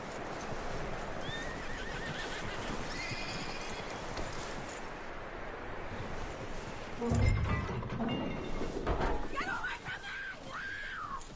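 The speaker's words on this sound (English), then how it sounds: "That looks like a decent horse. You should keep him. You need to hitch him. He's already skittish." A skittish horse in the video game Red Dead Redemption 2, with steady hoofbeats and rustling throughout, then a loud, wavering neigh near the end.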